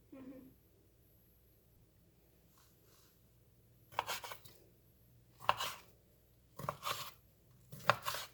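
A knife cuts cucumber and onion into cubes on a board, with four or five short, separated chopping bursts after a quiet stretch that has faint background murmur.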